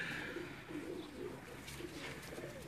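Pigeons coo softly in a loft, with several low, throaty rolling calls repeating at an unhurried pace over faint background noise.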